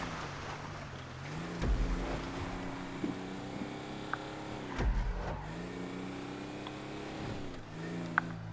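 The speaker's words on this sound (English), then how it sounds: "We're ripping through everything in our military car." A military jeep tears along in GTA 5, its mid-pitched engine droning steadily with rising and falling revs as it accelerates and shifts, plus a couple of heavy thumps and scattered clicks; no one speaks.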